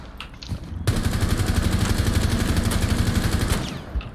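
Sustained automatic gunfire fired through a wall in the tactical shooter Rainbow Six Siege, a loud, rapid unbroken burst of shots lasting about three seconds after a brief quieter lead-in, with no talk over it.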